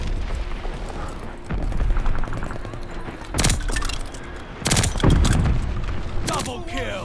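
A mortar barrage in the World War II shooter Call of Duty: Vanguard brings several heavy, booming explosions in separate bursts over ongoing rattling gunfire and game effects, with clipped in-game voice callouts between blasts.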